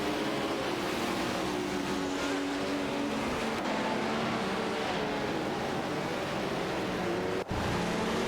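Race car engines roar steadily in an AI racing video game, among them a Ferrari 312PB and a Lola T280, with a continuous loud engine drone and shifting pitch and no voices.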